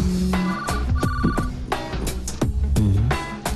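Mobile phone ringtone in a home during a Malayalam comedy scene; a loud, continuous melodic ring with repeating tones and no talk over it.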